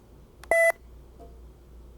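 An electronic phone dialer pressed at its button emits a single loud dual-tone DTMF beep lasting about a fifth of a second, followed by a faint brief tone and quiet room background.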